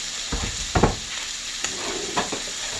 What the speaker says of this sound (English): The rest of the onion and the celery. And now we're going to add the mushrooms.